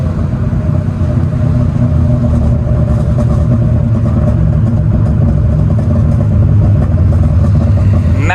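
A Honda K20 Type R engine, in a car being rebuilt for drag racing, drones loudly and steadily at high revs, with a rising sweep right at the end and no distinct pops standing out.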